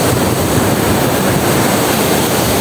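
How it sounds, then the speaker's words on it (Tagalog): Large waves crashing on a shore where they have wrecked fences and houses, a dense, roaring wash of surf that stays loud and continuous throughout with no break or voices. "Laki na ng alon, no?"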